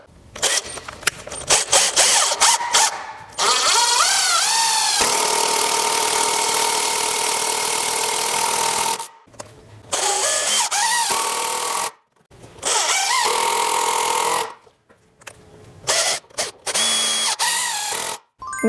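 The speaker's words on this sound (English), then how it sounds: "I'm going to put some 4-inch long construction screws on the ends there." A power driver sinks 4-inch construction screws into the ends of a wooden table, in several loud bursts of whirring and grinding, one long sustained run and shorter drives, separated by brief silences.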